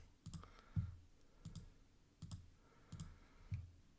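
A computer mouse clicks in quick pairs, about five clusters spaced roughly evenly, very faint and close with no talk.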